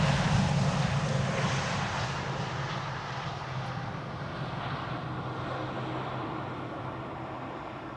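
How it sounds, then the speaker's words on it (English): An American Airlines airliner approaches the Polderbaan runway at Amsterdam Schiphol with a broad jet engine roar, loudest at first and then easing into a steady distant rumble. "This is American Airlines flight 204 arriving from Philadelphia in Pennsylvania."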